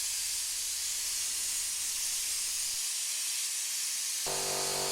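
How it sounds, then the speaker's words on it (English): A spray gun lays a light dust coat of 2k paint onto car panels, a bonnet and wings, as a steady close hiss that runs without a break, with a faint tonal hum entering near the end. "I gave all the panels a light dust coat to get started"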